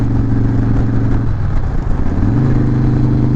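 A 2017 Harley-Davidson CVO Breakout motorcycle pulls in sixth gear from about 60 to 70 mph, a steady loud engine drone that dips briefly, then rises in pitch as it accelerates, with wind rush behind it.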